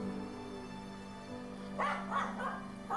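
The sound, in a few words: corgi barking in the Changeling Tale video game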